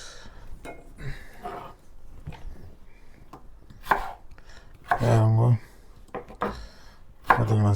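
A knife chops small potatoes for frying on a cutting board. Scattered light taps build to a few sharp, loud chopping knocks near the end, heard close up.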